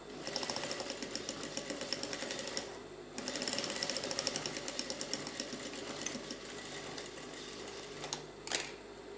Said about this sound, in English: I'll top stitch on it so that the pocket will be strong